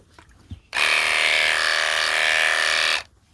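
Electric horse clippers switch on abruptly and run as a loud, steady buzz for about two seconds before cutting off, heard close up.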